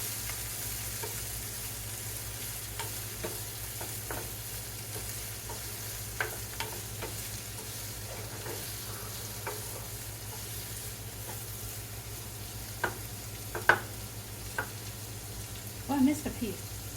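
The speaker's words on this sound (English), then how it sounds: "We're going to saute all of this together." Leftovers sauté in a pan with a steady low sizzle, broken by scattered stirring clicks and utensil taps that grow a little louder near the end.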